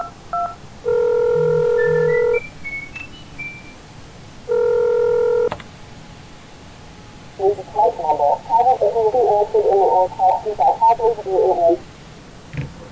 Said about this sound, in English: Okay, I'm gonna go ahead and call emergency services.